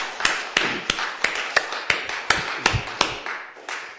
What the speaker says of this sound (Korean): 잘하면 좀 박수 한번 쳐줘요.